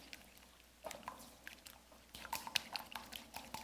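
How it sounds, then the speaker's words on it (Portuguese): An egg being mixed into a soft paste for savory panettone dough makes faint, wet squelching and sticky clicking sounds that come in irregular bursts, close and quiet, with no talking. "nessa hora eu já vou colocar aqui o ovo. Mistura bem."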